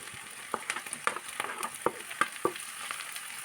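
Mixed vegetables for a vegetable biryani, including green chillies, potato, carrot and beans, sauté in hot oil with a steady close sizzle and repeated sharp scrapes and clinks from a stirring spoon against the pan.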